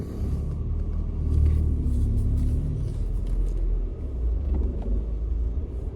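Car driving along a road, heard from inside as a steady low rumble of engine and tyres that holds at an even level throughout with no talking.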